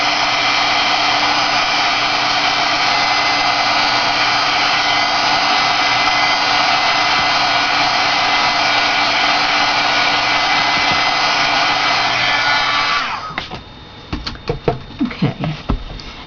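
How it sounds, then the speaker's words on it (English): Heat gun drying a stamped memory box, a loud steady blowing roar for about thirteen seconds before cutting off, followed by a few scattered handling knocks and taps. "I'm going to hit this with my heat gun real quickly to make sure it's dry"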